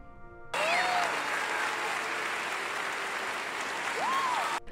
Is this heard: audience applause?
yes